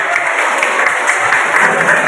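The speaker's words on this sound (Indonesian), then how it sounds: "Ya, tepuk tangan." An audience at a university public health guest lecture applauds steadily, a dense continuous wash of clapping from a crowd filling the whole moment.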